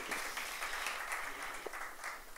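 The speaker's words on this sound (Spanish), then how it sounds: "Les pido un fuertísimo aplauso para mis modelos de molécula." Audience applause at a science show anniversary event, steady dense clapping of a fairly large crowd heard moderately distant and continuous throughout.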